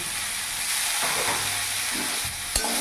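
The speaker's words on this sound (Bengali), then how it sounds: "ভালো করে নাড়াচাড়া করে সিম আঁচ করে এখন আমি কিছুক্ষণ ভাজা ভাজা করে নেব।" Salt, turmeric and cumin powder sizzle steadily in a hot pan while a utensil scrapes and stirs, with a sharp clack near the end.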